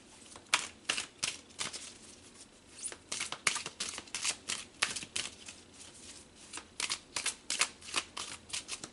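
Tarot cards are shuffled by hand in quick riffling bursts, crisp papery flutters repeating close up in an irregular rhythm with brief pauses between them.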